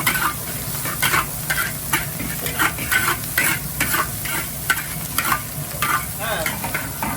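Guyanese Chinese fried rice with carrot, onion and scallion sizzles in a hot pan as a utensil scrapes and tosses it in quick repeated strokes, loud and close with no talking.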